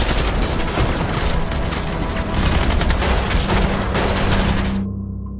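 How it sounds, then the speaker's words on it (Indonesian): Police in the film The Cursed Dead Man open fire on zombies, with dense, loud rapid gunfire crackling continuously for about five seconds before cutting off abruptly. "ia pun kemudian memerintahkan kepada pasukannya untuk melakukan penembakan terhadap"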